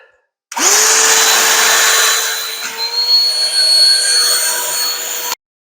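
A Ryobi 18V PCL705 cordless hand vacuum starts abruptly and runs loud and close with a steady whine while picking up a piece of wood, the pitch wavering briefly midway before it cuts off sharply.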